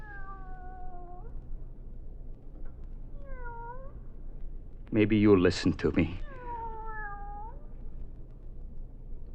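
A cat meows several times, drawn-out cries between quiet gaps, while a person speaks in a raised voice in the middle.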